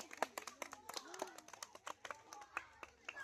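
Children clap their hands loudly at a jump-rope game, a quick run of sharp claps in an uneven rhythm with lively voices calling and chattering over them.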